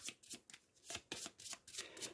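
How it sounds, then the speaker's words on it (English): A deck of cards for the Final Girl board game is shuffled, with quick, soft papery riffle bursts repeating in close succession, faint and near. "I will shuffle the Terror deck."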